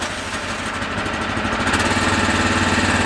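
Small engine revving up as the throttle is opened on a farm planting job, a loud close rumble that steadies into a faster, stronger drone.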